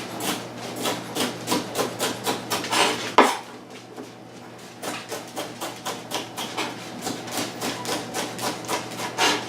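Knife chopping vegetables on a board in a home kitchen, a steady run of crisp, evenly spaced cuts, close and fairly loud, pausing briefly before resuming at the same rhythm; a low steady hum sits underneath.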